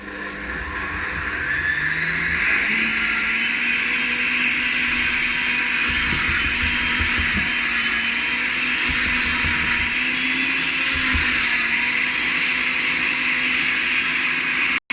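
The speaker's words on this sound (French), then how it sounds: "tous les éléments sont dans le blender. Il ne reste plus qu'à mixer." An electric blender runs continuously, blending a sauce with condiments in a loud, steady whirring drone with a slight shift in pitch early on, and no talk over it.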